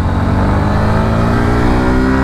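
A Yamaha FZ motorcycle, 155 cc with an R15-derived engine, accelerates hard on the road, its engine note loud and close with a steady rising drone and no talk over it.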